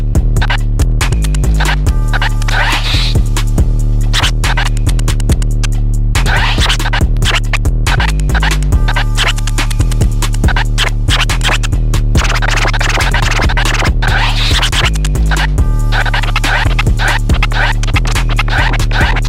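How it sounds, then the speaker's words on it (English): Automated scratching from the jog cutter on a Pioneer DJ FLX6-GT controller, working a loaded scratch sample: loud, continuous back-and-forth scratch bursts over a steady, pulsing beat with a deep bass hum, no talking. "It's supposed to automate scratching sounds."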